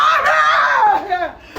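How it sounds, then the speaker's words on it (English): A woman screams from the balcony of a burning second-floor apartment, a long, loud, strained wail that falls in pitch, then a shorter cry. "that lady was right there on the balcony screaming"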